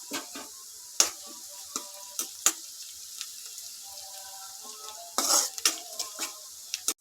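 Onions and curry leaves sauté in a pan with a soft sizzle, punctuated by sharp spatula-on-metal scrapes and clinks, clustered near the end.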